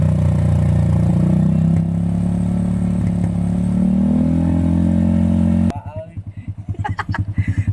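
A remapped Honda XRM 125 motorcycle engine runs with a loud, sustained rev that climbs in pitch, then drops to a choppy, pulsing idle; no talk is heard.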